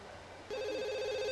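A telephone in The Sims 2 starts ringing partway in, a bright, steady electronic trill that keeps going to the end over a quiet game backdrop.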